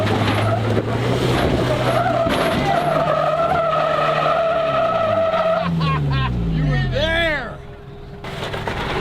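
Stock-height diesel truck with tires aired to about 90 PSI revving hard up a hill, loud engine drone with rising and falling tire squeal and skidding near the end, people talking over it.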